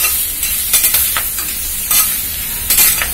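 Neem, citron and curry leaves sauté with garlic and ajwain in sesame oil, giving a steady close sizzle broken by several scraping stirs at uneven intervals.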